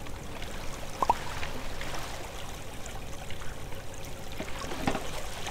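Flowing water ambience in the Minetest block-building game, a faint continuous trickling stream with a couple of brief louder splashes, steady throughout with no talking.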